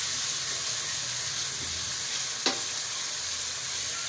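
Ginger garlic paste hits browned onions in a hot pan, giving a steady close sizzle and hiss with one brief sharp clink partway through.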